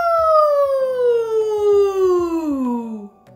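A voice imitates a siren, holding a high wailing tone that slides steadily downward over about three seconds before stopping.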